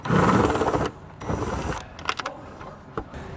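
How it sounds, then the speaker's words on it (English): Phillips head screws being backed out of RV awning covers, with two loud, close whirring bursts of a powered driver followed by scattered small clicks and clatter of hardware. "these are attached just by some Phillips head screws, so we'll go ahead and remove those"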